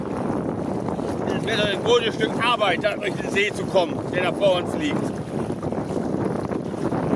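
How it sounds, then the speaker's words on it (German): Strong wind gusts roar and buffet the microphone on a lake, steady and loud throughout, while someone talks over it. "dass sich hinter den Bäumen ein ganz schöner Wind versteckt"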